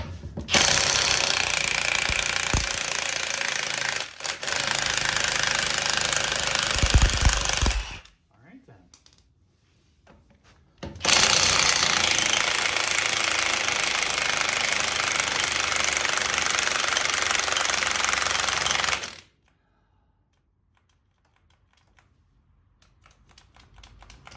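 Pneumatic impact wrench hammering loose the lug nuts on a 1984 Chevrolet Suburban tire, two long loud rattling bursts with a short pause and a brief hiss between them, then quiet.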